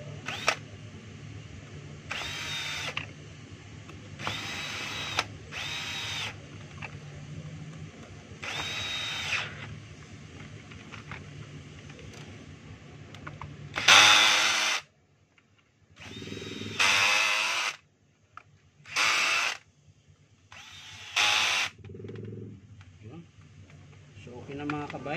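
A power drill drives a screw into a plastic housing, with several short whirring bursts close up, separated by pauses and a voice talking between them.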